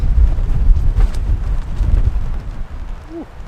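Strong wind gust buffeting a tent while camping in a rainstorm, a loud rushing roar that peaks early and eases off toward the end.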